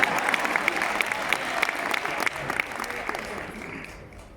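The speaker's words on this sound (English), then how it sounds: "Can you please clap?" An audience at a university memorial lecture bursts into sustained applause, a dense wash of many hands clapping that slowly thins toward the end, fairly close with crowd murmur mixed in.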